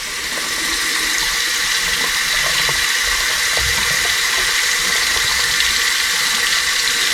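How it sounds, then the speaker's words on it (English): Steady, loud hiss of hot water running from an RV tap fed by a Truma instant water heater, continuous and close without pause, with faint mechanical clicks underneath. "All right, so now we'll turn the water on."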